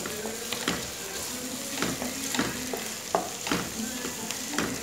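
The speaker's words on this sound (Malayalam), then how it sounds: "ഇനി അതിൻ്റെയൊക്കെ പച്ചമണം പോകുന്നവരെ നന്നായിട്ടൊന്ന് വഴറ്റി കൊടുക്കുക." Green chillies and curry leaves sauté in a pan on high flame, a bright continuous sizzle with repeated spatula scrapes and knocks against the pan in an uneven rhythm, close by with no talk.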